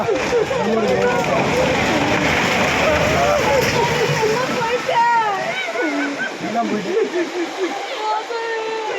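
Heavy-rain floodwater rushes loudly past a house being swept away, a continuous churning roar with splashes, while several people shout and talk excitedly over it throughout.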